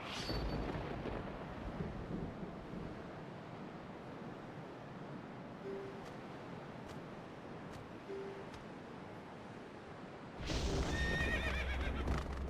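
Horse neighs and galloping hooves from Zelda: Twilight Princess during a horseback section of play, with brief high whinnies near the start and end over a steady rumbling game soundscape.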